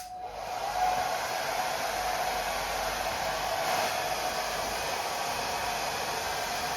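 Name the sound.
hairdryer blowing on a thunder drum's animal hide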